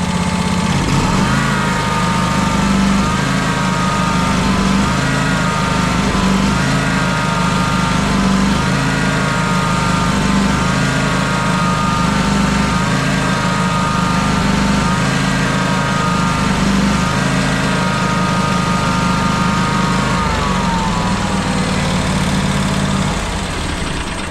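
A John Deere X350 lawn tractor engine idles steadily for a long stretch, a loud, close low rumble with a slight wavering surge in pitch, and no voices over it.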